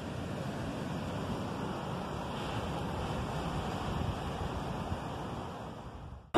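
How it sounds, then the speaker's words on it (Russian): Sea waves washing ashore in a steady, soft hiss of surf mixed with wind noise, continuous and fairly quiet, no voices, cutting off abruptly at the end. "Волны так ласкают слух."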